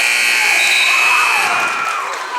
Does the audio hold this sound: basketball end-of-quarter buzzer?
yes